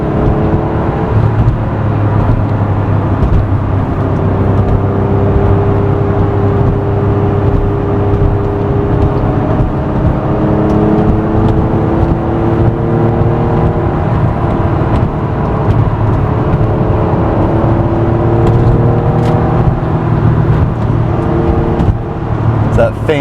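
An Acura NSX engine drones steadily from inside the car while driving a winding Alaska road, with rising and falling revs in a long gear and someone talking over the engine throughout.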